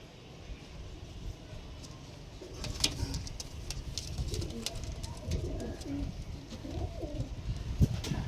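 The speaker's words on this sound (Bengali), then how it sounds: "ব্লাড লাইনের পায়রা" Bloodline pigeons cooing nearby, soft low repeated coos over a busy background with wing flutters, clicks and a faint voice at times.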